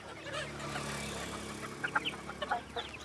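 Farm chickens cluck softly over a low background hum, with scattered clucks bunching up in the second half.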